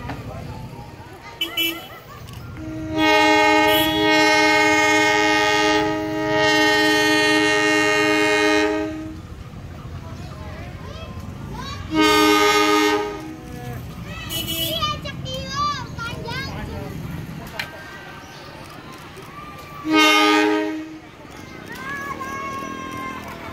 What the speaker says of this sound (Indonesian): inilah detik-detik kereta api menuju Garut